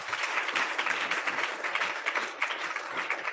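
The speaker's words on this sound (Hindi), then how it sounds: "जोरदार ताली बजाओ परमेश्वर" A church congregation at a Friday worship meeting claps loudly and continuously, a dense, rapid patter of many hands sustained across the short stretch.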